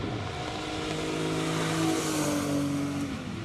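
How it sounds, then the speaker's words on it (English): Air-cooled Porsche 911G engine on a classic car outing, a moderately distant, sustained engine drone whose pitch climbs slightly and then falls away. "Do love the look, feel and sound of the old 911s air-cooled"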